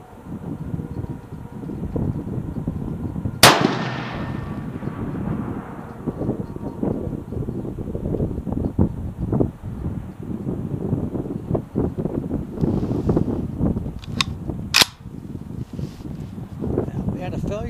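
A Remington 7400 semi-automatic rifle fires .280 Remington rounds outdoors: one sharp crack early on, then two more spaced shots later, over wind noise and a voice talking.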